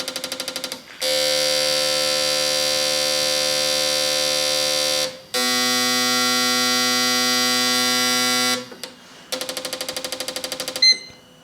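A fuel injection tester runs through its speed test sequence, giving a loud steady electronic buzz that shifts pitch in distinct stages from low to middle to high, with brief gaps between them and rapid pulsing clicks near the end.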